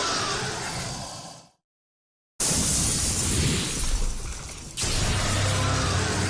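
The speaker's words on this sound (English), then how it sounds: "After removing his health we get the trophy squashed like a bug as he crashes through the glass into the entrance wall below." Glass shatters loudly as a boss in the Devil May Cry video game crashes through a window into the entrance wall below, a dense burst of breaking debris that stops abruptly, then returns as sustained crashing noise after a short silence.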